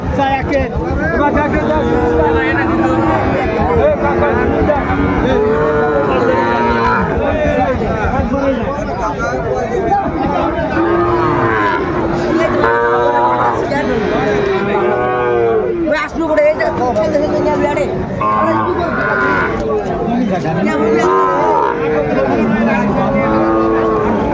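Sahiwal bulls moo repeatedly amid a busy cattle market in Noakhali, Bangladesh, low drawn-out calls overlapping with constant crowd chatter and nearby voices.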